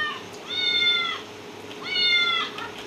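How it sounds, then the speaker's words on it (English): A cat lets out two drawn-out meows about a second apart, each rising and then falling, clear and fairly close over a faint background hum. "the noise of the cat is going to be slightly subdued"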